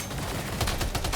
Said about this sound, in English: this is a level 2 machine gun though